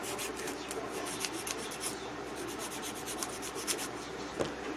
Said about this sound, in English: I am going to lightly try to file the tip of this while holding it in place